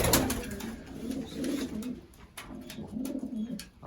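Racing pigeons cooing after returning from a 150-mile race, a steady run of soft, throaty coos repeating close by with faint background chatter and rustling.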